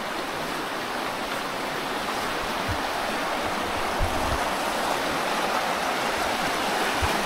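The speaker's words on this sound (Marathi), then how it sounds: "नदीला पाणी पण आहे चांगलं." River water flows steadily near a village immersion spot, a constant broadband rush with a few low thumps and no voices.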